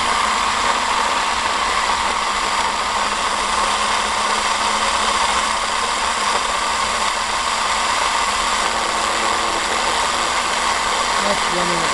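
A ball magnet Thomas motor spins at about 1300 RPM, giving a steady, even electrical whine and hum that holds unchanged and alone from start to end.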